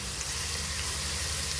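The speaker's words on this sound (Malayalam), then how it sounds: "അതും എണ്ണയിൽ കിടന്ന് നന്നായിട്ടൊന്ന് മൂത്ത് നല്ല കളറൊക്കെ മാറി വരണം കേട്ടോ." A heaped tablespoon of garlic ginger paste frying in oil for mango pickle, a dense, unbroken close sizzle filling the whole short stretch with no voices.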